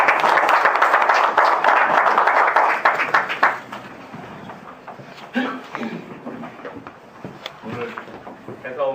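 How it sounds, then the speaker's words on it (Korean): An audience applauds in a large hall at a founding general meeting, welcoming a judge to the podium. The clapping is dense and loud at first, then thins out into scattered claps, with some murmuring. "큰 박수로 환영해 주시기 바랍니다"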